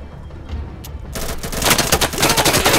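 Rapid automatic gunfire erupts in Insurgency, a close, loud burst of repeated shots that starts after a brief quieter lead-in and keeps hammering to the end.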